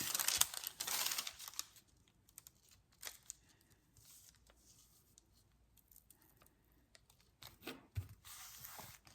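Scissors or a blade cutting material while a diamond painting canvas is prepared, heard as faint scratchy snips and tearing rustles, busiest at the start and again near the end.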